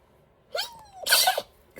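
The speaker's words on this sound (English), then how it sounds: "excuse me, I got a sneeze" A single close sneeze: a short rising intake of breath followed by an explosive burst, in an otherwise quiet room.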